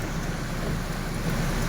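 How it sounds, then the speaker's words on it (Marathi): Heavy rain pours steadily in Bhiwandi, a dense continuous hiss with a low rumble beneath, unbroken and without any voices. "काल रात्रीपासून भिवंडीमध्ये मुसळधार पाऊस पडत आहे"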